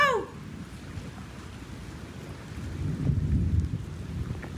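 Rain and wind roar steadily through a severe thunderstorm in northeast Oklahoma, with a low rumble of thunder swelling in the last seconds, broadband and close to the microphone, no voices.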